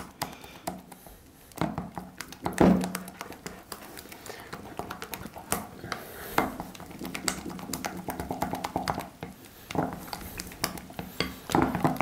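A utensil stirs melted white chocolate in a bowl, producing soft scraping and light clinking taps against the sides in an irregular rhythm, fairly quiet and close.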